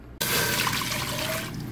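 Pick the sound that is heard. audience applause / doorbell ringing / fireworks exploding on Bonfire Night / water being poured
water being poured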